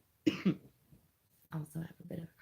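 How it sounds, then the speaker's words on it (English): Two quick coughs sound up close, followed by a short pause and then a few spoken words. "Also have a bit of a cough"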